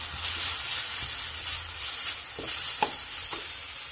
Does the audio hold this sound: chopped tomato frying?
yes